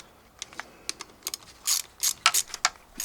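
A ratchet on a T30 fitting with a 10mm nut works on a 2018 Can-Am Outlander 850 XMR during a valve adjustment, giving a string of sharp, close clicks that speed up into a busier ratcheting burst.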